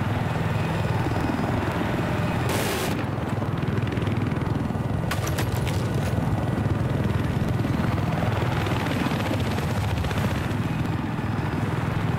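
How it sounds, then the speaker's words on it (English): Helicopter rotor and engine in the video game Battlefield 4, a loud, continuous droning roar with rumbling low thump that fills the whole scene, with a few sharp clicks or shots cutting through. "Helicopter for me if you see it."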